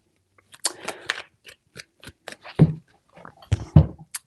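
Tarot cards are shuffled by hand in a quiet room, a run of sharp riffling and flicking bursts coming in uneven clusters with short pauses between them, close and fairly loud, no talking.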